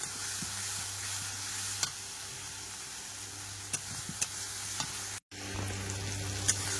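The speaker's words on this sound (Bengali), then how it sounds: "মশলাটা কিন্তু খুব ভালোভাবে কষাই করতে হবে, তা না হলে কাঁচা গন্ধ বেরোবে।" Spice paste for a fish curry frying hard in a pan, a continuous close sizzle with occasional scraping stirs and light knocks, briefly cut off by a moment of silence near the end.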